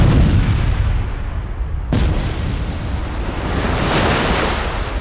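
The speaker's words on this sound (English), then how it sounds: "The explosion sent a fountain of seawater into the air." A missile explosion at sea throws a fountain of seawater into the air: a loud, roaring blast with a sharp crack near the middle, and a surf-like rush that continues throughout.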